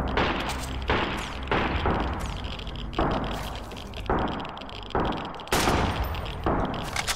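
Sniper rifle shots ring out in the survival game Sunkenland, a series of loud, sharp cracks at irregular intervals of roughly a second, each with a booming tail, with no voices over them.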